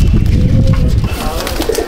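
Pigeons in a home loft at Icchapur, North 24 Parganas coo in low, close, throaty murmurs that are continuous and overlapping, with faint chirps near the end.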